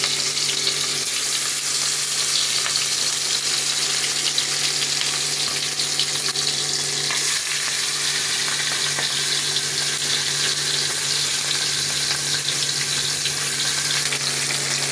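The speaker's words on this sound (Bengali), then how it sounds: "আমি মাছগুলো ভেজে নেব ভালো করে।" Fish heads fry in hot oil with a loud, continuous, even sizzle that holds steady throughout, with no talking.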